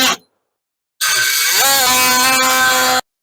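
A battery power tool whirs at high speed against the rubber around a bushing on a BRG A-arm, starting abruptly, rising in pitch as it spins up, holding a steady loud whine and then cutting off sharply.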